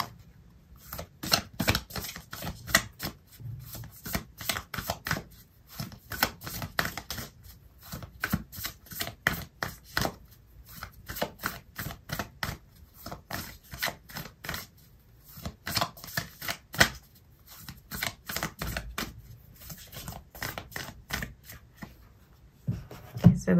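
Oracle cards being shuffled up close in repeated rhythmic bursts of riffling and sliding, with short pauses between rounds and no talking.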